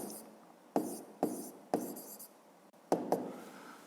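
Pen or pencil writing by hand on paper while working a fifth-grade maths exercise, a few short scratchy strokes with quiet pauses between, close and faint, no talking.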